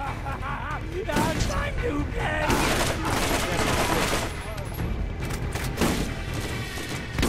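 Machine gun fire in a video game, dense rattling bursts and booms in rapid succession, loud and continuous, with voices talking over the shooting.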